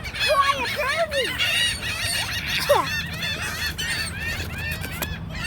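Geese and other large birds at a bird park in New Orleans honk and squawk continuously, many overlapping calls, near and loud, with some people talking underneath.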